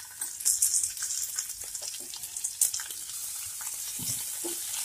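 Capsicum and mixed vegetables sautéing in a pan for chilli paneer, a steady close sizzle and crackle with occasional stirring scrapes, no talking.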